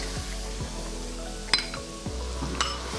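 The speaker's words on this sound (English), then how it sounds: "I'm putting in garlic" Garlic frying in oil in a pot makes a low, steady sizzle under occasional metal clinks and a couple of sharp utensil knocks against the pot, close and fairly quiet, no talking.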